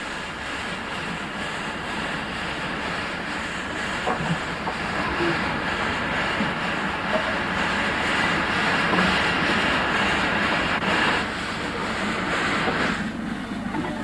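Steam locomotive City of Leeds stands outside a roundhouse, readied to take over the southbound Red Rose to Euston, giving a steady, continuous rumble and hiss of rail activity with no talk.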